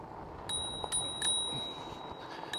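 A bicycle bell rings in a few quick, bright dings over faint outdoor background noise on a forest trail in Ouachita National Forest.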